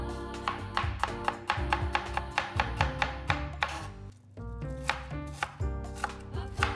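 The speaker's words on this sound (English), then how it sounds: "and mince the shallot" A knife taps rapidly on a cutting board, mincing shallot in quick, even chops with a brief pause midway, close and crisp over soft background music, no talking.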